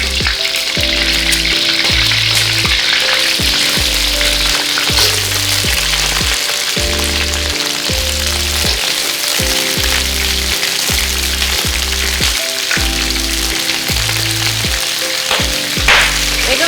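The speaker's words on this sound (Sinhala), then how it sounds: "මේකට අපේ crabs ටික දාලා දැද ගන්න ඕන." Crabs fry in plenty of hot oil in a large pan, giving a loud, dense, continuous sizzle with crackling close up, over a steady low rhythmic background.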